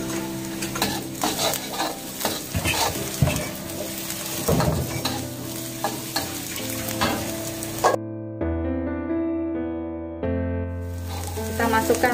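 Garlic frying and being stirred in a pan while cooking biryani, with spatula scrapes and clinks over steady sizzling, then a stretch of sustained music tones with the sizzle fading in and out.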